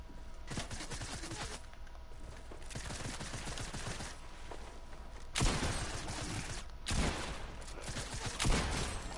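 Fortnite gunfire, faint and distant-sounding, with rapid bursts of shots clustered together and several louder volleys standing out against quieter stretches.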